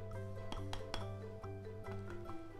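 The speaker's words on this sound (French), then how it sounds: "Je vais mélanger le sucre glace." Yeast and icing sugar being mixed in a bowl make a series of quick clinks and scrapes of a utensil against the bowl, fairly faint and close, with no one speaking.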